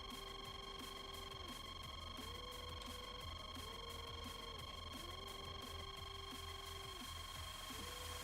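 Repeated electronic beeping tones in a DCS flight simulator cockpit, a pulsing pattern over a constant hum, faint and steady.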